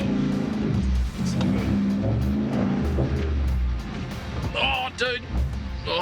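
6x6 LC79 Landcruiser engine labouring and revving while bogged in soft ground, loud and close, with wheelspin and people talking over it.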